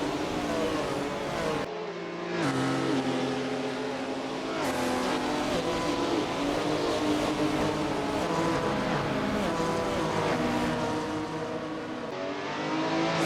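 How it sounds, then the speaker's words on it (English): Loud 1956 Formula One Grand Prix race cars roaring away from the start, engines revving hard with overlapping passes and brief gaps, the sound steady and close. "As the flag drops, Fangio's start is less than ideal"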